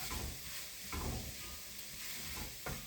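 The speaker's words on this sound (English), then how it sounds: "Go ahead and give that all a stir." Vegetarian chili is stirred in a pot, a spoon scraping through the thick mixture in a few soft, close strokes over a faint steady sizzle.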